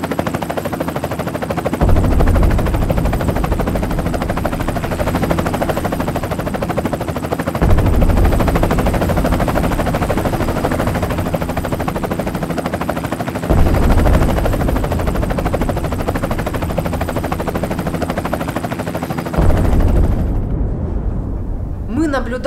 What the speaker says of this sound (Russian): Наблюдали, как российские вертолеты обстреливают аэропорт Гостомеля прямо из детской спальни